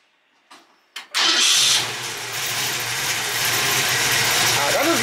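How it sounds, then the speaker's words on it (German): A Robur truck engine fitted with a camshaft cranks and catches after two short attempts, then settles into a loud, close, rough idle that runs steadily to the end. "Eine Nockenwelle drin. Deswegen klingt er auch so geil vom Leerlauf her."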